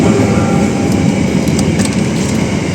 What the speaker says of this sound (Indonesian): Melintas kereta api direct train.